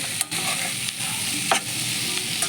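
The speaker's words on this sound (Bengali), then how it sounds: "এবার একটু ভাজা করে নিই। মশলাগুলো একটু ভেজে নিয়ে" Spices frying in a pan with a steady, close sizzle and a few soft stirring scrapes, no voices.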